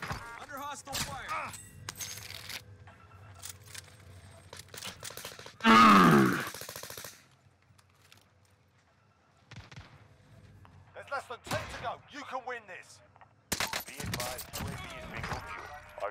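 Gunfire in Call of Duty Warzone on Rebirth Island, with an Owen SMG in play: scattered bursts of shots and one loud, dense volley mid-clip, mixed with voices talking over the action.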